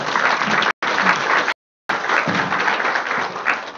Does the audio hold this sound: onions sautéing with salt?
no